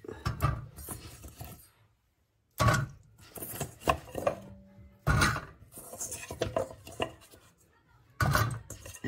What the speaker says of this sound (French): On met la cocotte.